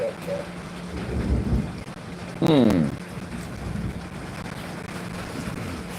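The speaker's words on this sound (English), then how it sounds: "I'm gonna close this window, maybe picking up the rain sound" Steady rain falls outside a window, a soft constant hiss, with a rumble of thunder and a brief louder burst of sound midway and faint voices in the background.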